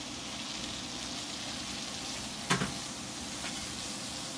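Shrimp sizzle on a Blackstone flat-top griddle, a steady frying hiss broken midway by a brief sharp burst as pieces are flipped.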